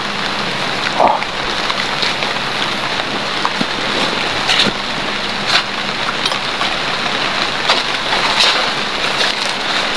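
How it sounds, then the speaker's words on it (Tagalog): Rain beginning to fall outdoors, a steady broadband hiss of drops with scattered small taps throughout, fairly loud and continuous, with no talking. "umpisa na po yung ulan, kaya maghanap tayo ng pwede natin sisilungan ngayon"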